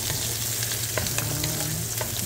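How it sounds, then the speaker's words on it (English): Onions sautéing in a hot pan for chicken adobo, a steady close sizzle and crackle with a few soft stirring clicks, no talking. "Ang sibuyas. You have to saute, guys."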